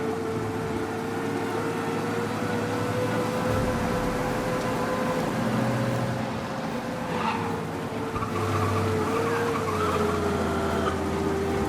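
In the game Mafia Definitive Edition, a car speeds away from police with a continuous roaring engine and hiss of road noise, tires squealing in places, loud and close throughout.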